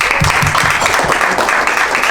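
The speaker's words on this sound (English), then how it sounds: "So a round of applause to all of you guys." Guests at a banquet give a short round of applause, brisk clapping with a few louder claps near the start, brief and fairly close, with a voice faintly present underneath.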